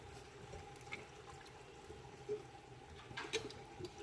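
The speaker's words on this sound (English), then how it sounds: "Gonna add in our can of the coconut milk." Canned coconut milk poured into a chicken curry pot on the stove, a faint soft liquid pour and gentle splashing, quiet and close.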